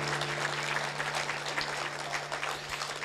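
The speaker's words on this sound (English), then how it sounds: "Would you give the Lord a hand clap of praise today?" A church congregation claps in praise to the Lord, a continuous crowd of hands with a steady low electrical hum running underneath.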